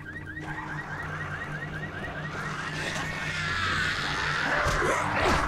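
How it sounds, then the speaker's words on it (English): A car alarm wails in the Dead Island Riptide video game, a repeating rising electronic whoop that cycles steadily over a low engine-like drone amid game ambience. "Where is the stupid alarm?"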